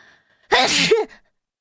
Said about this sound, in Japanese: くしゃみ助かる